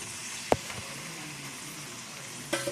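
Meat and fat pieces dropped into a pan of caramelized onions for a quick beef tagine, a sharp sizzle flaring briefly, then a steady low frying hiss, with another burst near the end.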